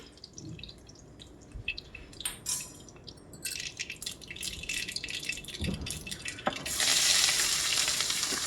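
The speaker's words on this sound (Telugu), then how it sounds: "ఇవి చిటుపాట్లు ఆడిన తర్వాత అలా కలుపుకొని ఆనియన్ని కూడా యాడ్ చేసుకోవాలి" Chopped onion drops into hot oil just after spluttering seasoning, for a black-eyed pea curry, giving uneven crackles and drips that swell into a loud, steady close sizzle toward the end.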